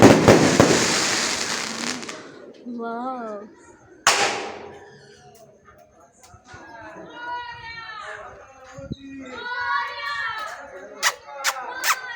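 A loud crackling burst of firecrackers at night in the dark, then a single sharp bang, followed by children and adults chattering and shouting nearby.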